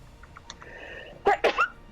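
A quick, loud sneeze close by, a sharp double burst of breath after a few faint clicks and murmurs.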